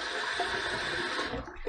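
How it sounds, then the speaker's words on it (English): Water drains out of a bathroom sink during a wet shave, a steady gurgling swirl close by that tapers off toward the end. "Let me just remove some of this water out of the sink here."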